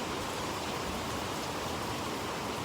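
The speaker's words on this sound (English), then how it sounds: "the reason the rain sounds so loud right now is because it is, but also because I'm right underneath a metal roof" Heavy rain drums steadily and loudly on a metal roof overhead, a dense, unbroken roar with no pauses.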